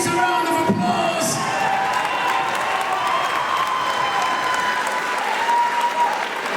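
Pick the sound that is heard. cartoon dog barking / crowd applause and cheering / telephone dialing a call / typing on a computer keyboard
crowd applause and cheering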